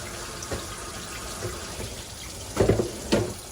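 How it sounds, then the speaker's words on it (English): Water running from a kitchen sink tap while shrimp are drained, a soft steady flow with a few louder splashes and clunks near the end, close by and without talking. "I'm about to let these shrimp drain"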